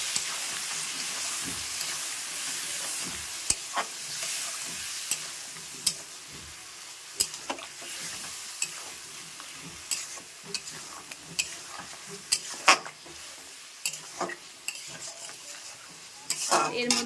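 Stone-ground spice paste and half a tomato fry in a pan with a soft, ongoing sizzle, broken by frequent sharp scrapes and clacks of a spoon being stirred against the metal.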